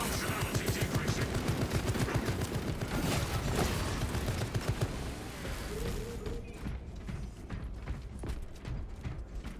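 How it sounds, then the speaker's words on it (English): A tarantula sentry gun turret in a video game firing long, rapid bursts of mechanical gunfire, loud and close, thinning into scattered clicks and clacks as the stream tails off. "Activating tarantula sentry gun."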